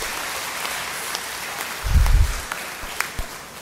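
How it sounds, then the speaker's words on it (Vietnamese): Applause from a church congregation at a Vietnamese Holy Family Mass, a broad, fairly distant wash of clapping that holds steady, swells briefly near the middle and then settles. "ta vỗ một tràng pháo tay thật lớn để chúc mừng"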